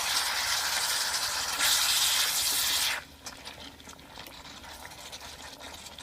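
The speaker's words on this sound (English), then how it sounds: "I'm going to cook these down on a high heat." Tomatoes and their juice cooking down on high heat in a pan, a loud steady sizzling hiss for about three seconds that then drops to a quieter bubbling simmer.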